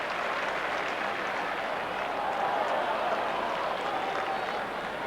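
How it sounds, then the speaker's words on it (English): A big stadium crowd at the MCG applauds and murmurs through a 1990 AFL match between Melbourne and Essendon, a steady, distant-sounding wash of clapping and crowd noise that swells slightly midway and holds throughout. "the crowd reacts again as they watch it on the big colour scoreboard at the MCG"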